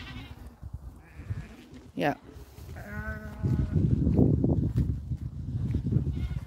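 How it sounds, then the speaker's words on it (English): Hair sheep on a small farm bleat once or twice in a short, wavering call, with a person speaking briefly nearby and steady background noise. "I'm looking for somebody to come shear the sheep."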